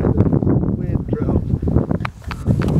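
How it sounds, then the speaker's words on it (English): Cold wind buffets a handheld microphone outdoors near dorms, giving a loud, continuous rumbling roar that rises and falls in gusts, with some voices mixed underneath. "This is the cold wind. This is the point where the cold wind starts coming."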